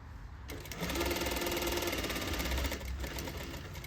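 Close sewing machine stitching a flap pocket, running in one steady rapid burst of needle chatter for about two seconds before slowing, alone without talk.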